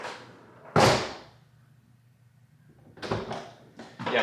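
A Honda Accord's car door shuts with a single solid thud close by, followed by a lull and then some muffled rustling and bumping of movement in the seat.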